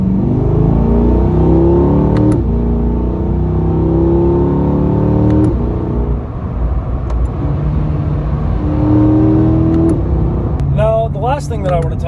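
C8 Corvette 70th Anniversary Edition accelerating hard in a straight line, a loud close engine roar climbing in pitch through gears with a dip around a shift, continuous, and a voice speaking briefly near the end.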